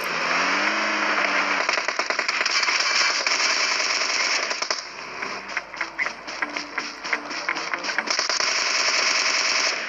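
Rapid automatic gunfire bursts from a video game, loud and close, with steady engine-like drone beneath and a stretch of separated individual shots in the middle.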